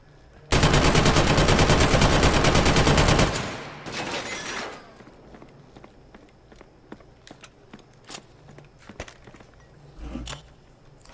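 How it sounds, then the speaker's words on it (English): Heavy automatic gunfire from a powerful weapon in the PS4 video game Killzone Shadow Fall, a loud continuous burst lasting about three seconds, followed by clattering debris and scattered faint impacts and footsteps. "I can maybe just shoot it with some heavy power"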